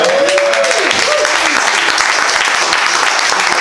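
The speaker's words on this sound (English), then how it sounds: "Round of applause for the first timers." A comedy theater crowd gives a loud, lively round of applause for first-time comedians. The clapping is dense and close, with voices calling out over it.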